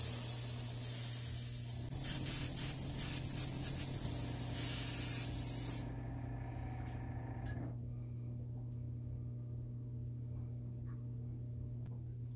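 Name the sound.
spray paint coat being applied to a fishing popper lure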